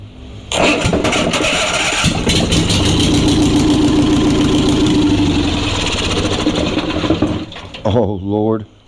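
An ONAN Performer 20 HP engine, being fitted to repower a John Deere 850 compact tractor, cranks and catches, then runs loud and steady close by for about seven seconds before shutting off with a brief sputter.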